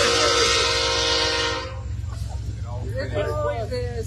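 A passing train blasts its horn loudly and steadily at an outdoor political rally, then fades into rumbling rail noise as crowd talk and a voice return.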